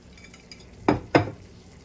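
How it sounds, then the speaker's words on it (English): Onion and red and green cubanelle peppers being stirred into a meat sauce for pepper steak, with two short, close scraping strokes of a utensil through the pan over a quiet background. "And just go ahead and give those a whisk around in the sauce, in the meat, to make sure that it gets all those good flavors"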